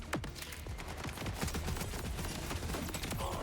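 Assault rifle firing in Borderlands, a dense run of sharp close shots in irregular rapid bursts with overlapping echoes and impacts, loud and continuous across the whole stretch.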